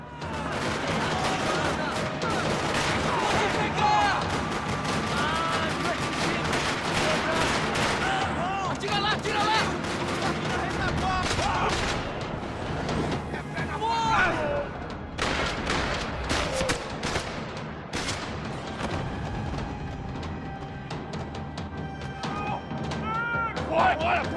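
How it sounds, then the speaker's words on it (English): Gunfire in a parking lot in Max Payne 3, sustained rattling bursts of automatic shots and booms layered over game music, with voices speaking over the barrage. "Another parking lot rattling with gunfire."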